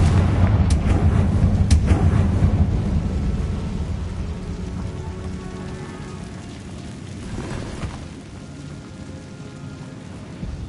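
A Confringo fire spell blast in Hogwarts Legacy, a loud booming burst with a few sharp cracks at the start that rumbles and slowly fades into a softer roar, with a smaller flare-up later, no voices.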